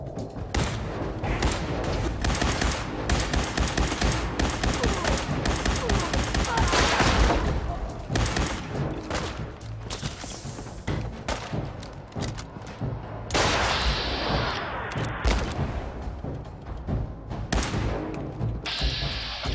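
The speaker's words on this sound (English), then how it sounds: "Laser rifle." Laser rifle fire in Fallout 4, a long run of rapid, loud energy-weapon shots and impacts from a PC game, firing almost continuously with brief lulls and busy game effects layered throughout.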